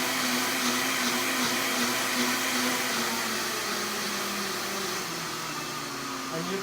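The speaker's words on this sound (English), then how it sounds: "So you're just blending on high?" Blender running at a medium-high setting while blending cashews into a plant-based cheese, a loud steady whir and grind that eases slightly toward the end.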